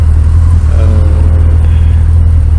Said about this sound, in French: le FJR, j'aime beaucoup son son.